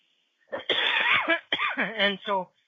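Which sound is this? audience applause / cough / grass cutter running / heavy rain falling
cough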